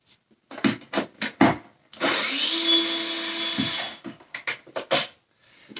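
A power screwdriver backs screws out of a Dyson Cinetic Big Ball Absolute 2 vacuum during disassembly, one steady close whir of about two seconds, set between short clicks and handling knocks.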